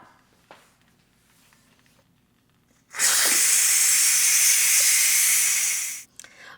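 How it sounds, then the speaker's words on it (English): Steam hisses loudly and steadily from the release valve of a pressure cooker used for cooking chili and rice, a broad rushing burst lasting about three seconds before cutting off abruptly after a quiet start. "flip that switch back here, the valve, and vent it and release the rest of the steam"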